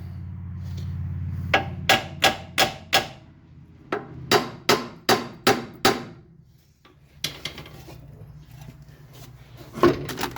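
Hammer striking the caliper and lower ball joint on a Triumph TR7: two close bursts of about five sharp metallic blows in steady rhythm, then a few scattered clanks and rustling.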